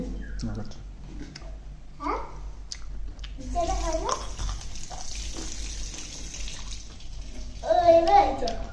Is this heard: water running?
yes